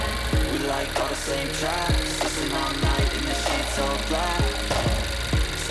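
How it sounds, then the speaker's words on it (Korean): Under loud background music, the 1.5 turbo engine of a 10th-generation Honda Accord idles with a steady, rhythmic knocking pulse, close and even-paced throughout. "엔진 소리 일정합니다."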